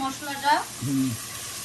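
Butter masala spices frying in a pan while cooking chicken biryani, a steady soft sizzle heard under voices speaking close by.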